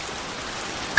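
Steady rain falling through the night, an even hiss of drops on surfaces with no voices, ending in a sudden louder burst at the very end.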